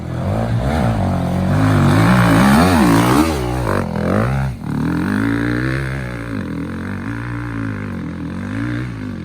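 A KTM dirt bike roars and revs continuously on a woods ride, engine pitch climbing and falling with a brief dip midway, loud and close with no talking.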